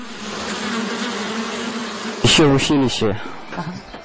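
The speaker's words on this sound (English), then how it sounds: "He is fortunate that the bees here, at the reserve, are contented and peaceful." Honey bees buzz at a nature reserve in Bashkortostan, Shulgan-Tash, a close steady hum that continues while a voice speaks over the second half.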